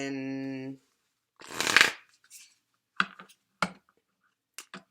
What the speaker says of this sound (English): so what I'm going to do now is pull from my shaman cards and see what we get